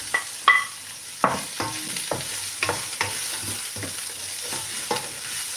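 Carrots going into a frying pan of vegetables and tofu, a series of sharp clattering stirs and scrapes over a soft sizzle.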